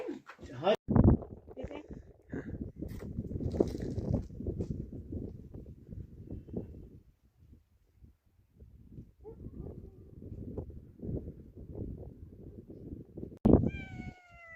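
A domestic cat meows in a rural Anatolian home, with one sharp meow near the start and another near the end, while people talk nearby in between.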